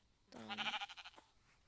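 A single sheep bleat in the Minecraft video game, short and wavering with a quick stuttering tail, heard alone and fairly quiet.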